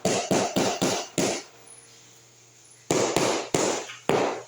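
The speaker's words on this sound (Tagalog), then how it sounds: "ginagamit na po niya ng maso na plastic. Maso na goma." Rubber mallet tapping tiles into a dry-pack cement bed, with a quick run of five sharp, close knocks, a pause, then four more evenly spaced taps.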